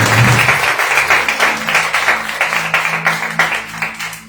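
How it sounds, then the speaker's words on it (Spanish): A church congregation claps loudly and rhythmically in unison, steady beats carrying over a sustained organ or keyboard tone. "Aplaudan al Señor si lo va a aplaudir."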